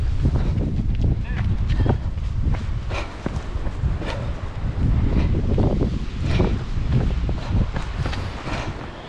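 Gusty wind buffets the microphone along a beach running course during a 92 km relay ultra-trail, a steady low roar with scattered footfalls and rustling beneath it, and voices talking at moments.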